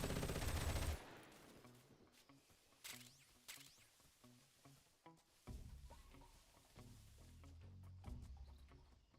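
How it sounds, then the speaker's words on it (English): Bursts of gunfire from the video game Metal Gear Solid Delta, a loud opening volley followed by a series of sharp, scattered shots and rattling fire over a rumbling game soundscape. "You hear all that gunfire?"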